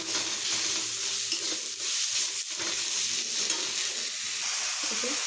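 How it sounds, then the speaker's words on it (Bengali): Spice paste for a fish and potato curry sautés in a hot pan, a continuous dense sizzle broken by stirring scrapes, close and fairly loud with no talking. "মশলাটা কষা হয়ে গেছে"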